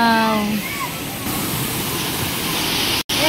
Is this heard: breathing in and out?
no